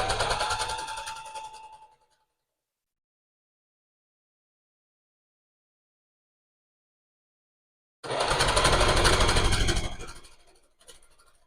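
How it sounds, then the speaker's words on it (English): A home sewing machine stitches a small witch cape for a doll in two short close bursts of fast whirring, separated by several seconds of silence, with no talk. "So I'm going to go ahead and sew this."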